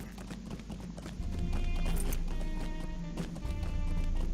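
A horse's hooves clip-clop in a steady, quick rhythm in The Lord of the Rings Online, close and continuous, growing louder as the gait picks up.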